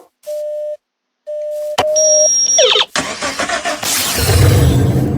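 A DeLorean car in Minecraft Bedrock Edition gives two short electronic beeps, then the engine starts with a brief chime and whine and revs up loudly into a rising, roaring acceleration.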